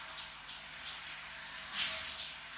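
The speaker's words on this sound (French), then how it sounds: "je vais aller me rincer les cheveux" Running tap water pours steadily in a bathroom while hair is being rinsed, a soft continuous hiss with slight surges in flow, close and fairly quiet, with no talking.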